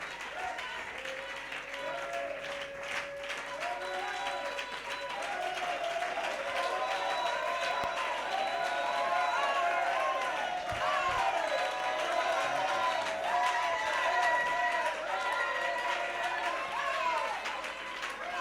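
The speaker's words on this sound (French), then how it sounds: "Give a hand of clap to the Lord." Church congregation at a special worship service claps and applauds steadily throughout, a dense continuous wash of hands mixed with cheering voices and music, loud and sustained.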